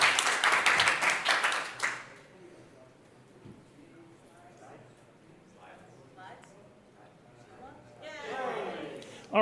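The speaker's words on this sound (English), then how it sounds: "Give him a big round of applause" Audience applause at a PyCon AU 2025 conference talk: a dense burst of clapping for about two seconds that quickly dies away, leaving a quiet room with faint stirring, then a voice begins speaking near the end.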